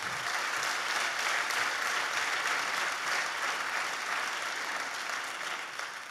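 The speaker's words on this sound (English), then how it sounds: "I want you to give her a round of applause." A lecture-series audience gives a sustained round of applause, a dense, steady wash of clapping that holds at an even level for about six seconds with no talk over it.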